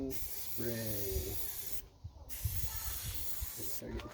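Spray paint hissing onto a camper body in short bursts, close and fairly loud, broken by brief pauses between passes, with faint background talk.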